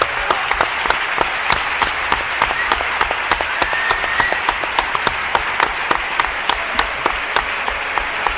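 Audience applause at a live radio show in Cádiz, a loud, sustained wash of clapping from a crowd with individual claps standing out throughout.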